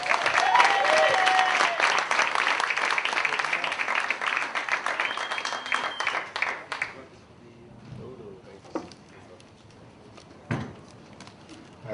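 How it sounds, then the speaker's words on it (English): An audience at a comedy show claps and cheers loudly for about seven seconds, then the applause dies away, leaving a quiet room with occasional faint sounds. "Clap it up."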